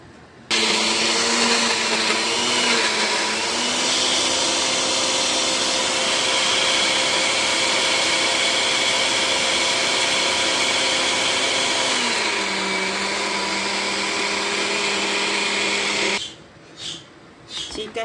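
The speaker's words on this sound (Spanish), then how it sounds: "aquí ahorita vamos a licuar nuestra salsa de guacamole" A kitchen blender purées guacamole salsa with a loud, continuous motor whir. The whir drops slightly in pitch partway through, then cuts off near the end, leaving brief rattles.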